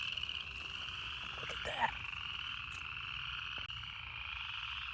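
American toads calling during their breeding migration in North Georgia in December, a steady sustained trill continuing throughout, with a brief voice speaking partway through.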